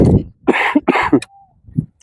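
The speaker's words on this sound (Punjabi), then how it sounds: "ਮਾੜੀ ਮੋਟੀ ਖਾਂਸੀ ਜਿਹਾ ਜੇ ਹੈਗੀ ਆ" Several harsh coughs close by from a man with malaria fever, bunched into a quick series of bursts, with a brief faint whistle-like tone after them.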